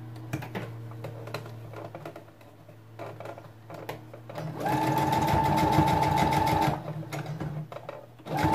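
A sewing machine runs steadily for about two seconds while topstitching a long hijab-style robe, its rapid needle chatter loud and close, with quieter bursts of stitching and handling noises before and after.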